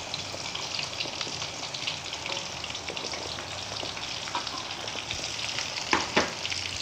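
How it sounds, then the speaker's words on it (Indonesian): Shallots frying in hot oil for sambal pecel lele give a steady, close sizzle and crackle with occasional stirring clatter, heard alone without talk. "kita masukkan bawang merahnya dulu, sama kita tumis, kita goreng sampai berwarna merah kecoklatan"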